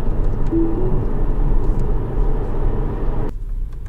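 Tesla Model S cruising on Autopilot along a national road, a loud, steady cabin rumble of tyre and road noise that eases slightly near the end.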